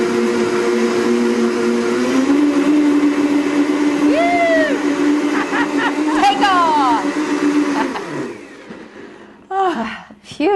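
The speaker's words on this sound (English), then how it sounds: "It's a complicated blender." A blender making a smoothie whirs steadily at close range for about eight seconds, pitch shifting as it runs, then stops; voices chatter over and after it.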